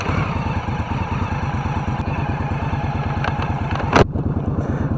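2018 Indian Scout Bobber motorcycle rumbles steadily underway, a close, even engine pulse with road and wind noise throughout and a brief clatter near the end.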